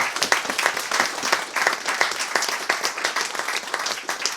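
Sustained applause from a crowd at a book release event, a continuous wash of many hands clapping at an even level throughout.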